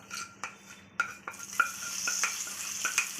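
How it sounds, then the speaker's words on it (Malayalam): Hot tempered mustard seeds poured into a pot of pumpkin erissery curry, giving a steady close sizzle with a few sharp crackles and light clinks of a pan or spoon, with no voices. "ഇതിലേക്ക് നമ്മൾ കടുക് വറുത്തത് ഒഴിച്ചു കൊടുക്കാം."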